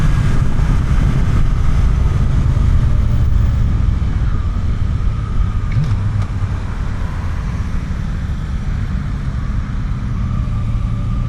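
A Suzuki GSX-8TT motorcycle engine drones steadily while riding, mixed with heavy wind rush and road noise, loud and continuous with a brief pitch rise partway through.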